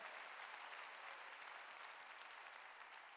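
A church congregation claps during a Korean Wednesday worship service, a dense, steady wash of applause from many hands that fills the whole moment at moderate distance, with no voices over it.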